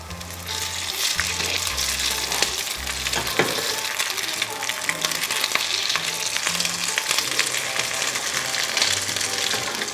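Semolina gnocchi fry in a pan with a steady, close sizzle that continues throughout, while music plays along underneath.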